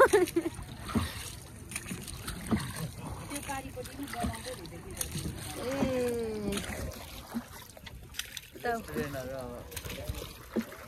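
A boat moves through the water of the Koshi river, with soft splashes and sloshing close by under frequent talking voices, all fairly quiet.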